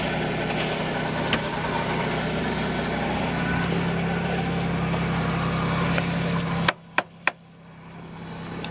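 A 1997 Buick LeSabre engine holds a steady high idle after a cold start in winter, a constant droning hum heard from inside the car, ending in a few sharp clicks and thumps.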